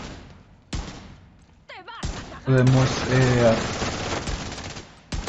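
Gunfire from The Division 2, several sharp shots breaking through a spoken voice, with one louder burst of firing mid-clip over ongoing game sounds.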